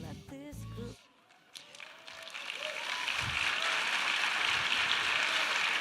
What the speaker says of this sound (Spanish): Grandes aplausos.